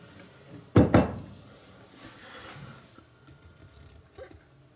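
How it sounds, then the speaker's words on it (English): Two quick close knocks and a clatter as a bowl is taken out of an Amana Radarange RR-6W microwave, followed by quiet room tone and a faint later clink. "so we're going to get this out of the microwave"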